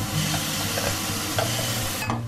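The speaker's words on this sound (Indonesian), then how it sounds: "Nih dia bumbunya, kita tumis ya." Rendang spice paste, already blended with oil, sautés in a pan with no extra oil added, making a steady, close sizzling hiss with faint stirring scrapes throughout.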